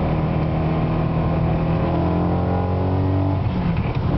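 BMW E92 M3 fitted with a Dinan midpipe and rear muffler accelerating hard in third gear, a loud, steady engine and exhaust note climbing continuously through the rev range, heard alone without any voices.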